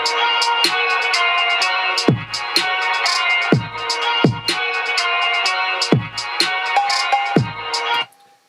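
Hip hop beat built from a sample pack, with deep booming kick drum hits and added cowbell percussion over a dense, bright melodic loop, punchy and steady before cutting off near the end.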